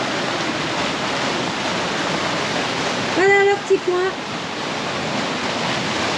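River water at a cool bathing spot in Arouca, Portugal rushes in a steady, even wash of noise, and a person speaks briefly partway through.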